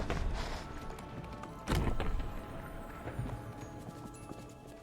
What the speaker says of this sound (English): Such a strong horse.